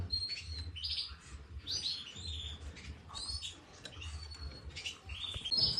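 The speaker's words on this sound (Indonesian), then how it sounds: "Burungnya cakep." A female canary in a cage chirps in quick, bright bursts of high tweets and trills, with short pauses between phrases, close by over a low background hum.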